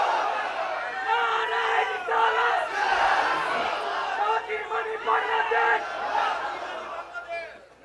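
A large crowd at a Bengali religious gathering roars back in unison to a takbir call, with loud, repeated chanted shouts rising and falling across several seconds.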